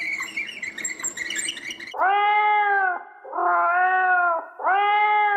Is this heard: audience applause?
no